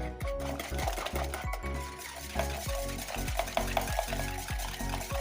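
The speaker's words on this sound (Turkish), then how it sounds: "Çırpma teli alalım. İyice çırpalım." A wire whisk beats a liquid mixture with baking soda in a bowl for a spinach börek sauce, giving fast repeated clinking and swishing strokes in a steady close rhythm, with no talking.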